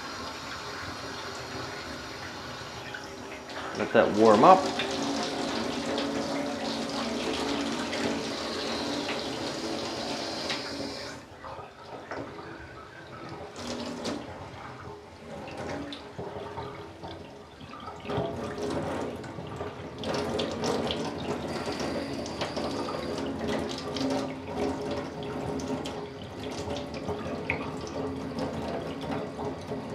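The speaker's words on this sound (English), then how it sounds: "Start the water running." Water runs from a tap into a basin in a film-developing darkroom, a steady close splashing flow that keeps going throughout, with a brief remark spoken over it early on.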